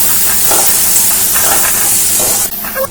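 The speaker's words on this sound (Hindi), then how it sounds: "ओनियन की पेस्ट को मसालों के साथ अच्छे से मिला देते हैं।" Onion paste is stirred into spices frying in a pan for prawn masala, giving a loud, continuous close sizzle and hiss with faint scraping, which drops suddenly near the end.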